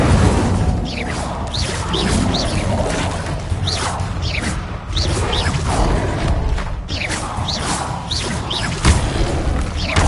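An Incendio fire spell cast in Hogwarts Legacy during loud, busy combat: a continuous roar of whooshing magic, booms and crashes, with repeated swishes layered over a dense game soundscape.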